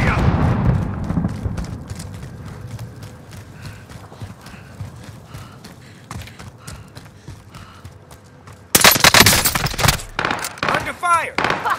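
Hostile fire in a Call of Duty: Modern Warfare match: faint rapid shots tick along under a rumbling backdrop, then a loud close burst of automatic gunfire breaks out near the end.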